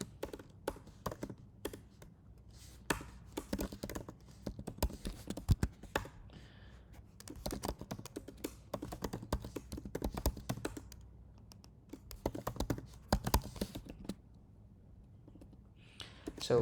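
Code typed on a computer keyboard, a continuous run of quick, close key clicks with irregular rhythm and a few brief pauses, fairly quiet and with no talking.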